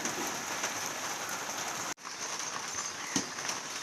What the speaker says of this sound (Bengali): দেখো কি প্রচুর পরিমাণে বৃষ্টি হচ্ছে।